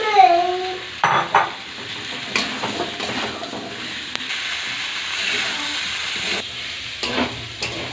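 Pieces of gathi taro tossed with turmeric sauté in a pan with soft sizzling, while several bursts of stirring and scraping come through close by in an irregular rhythm.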